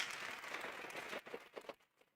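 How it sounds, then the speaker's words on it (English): Audience applause in a conference hall, a steady wash of hand clapping that thins into a few scattered claps before fading out. "Can we give that a hand clap?"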